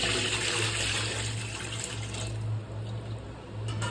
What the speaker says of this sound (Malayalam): നന്നായി ചൂടായി കഴിയുമ്പോൾ അളന്ന് വെച്ചിരിക്കുന്ന വെള്ളം അതിലേക്ക് ഒഴിച്ചു കൊടുക്കാം.